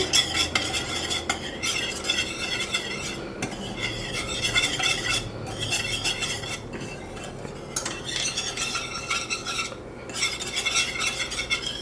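Spoon scraping and stirring cumin into a mixture in a pot, a steady run of close metallic scrapes and clinks with faint sizzling beneath, no talking.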